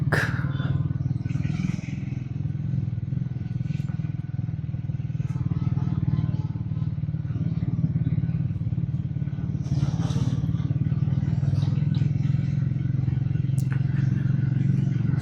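A motorcycle engine and exhaust rumble low and steady throughout on a mountain road, with occasional clatter and faint passing traffic, heard from the rider's position.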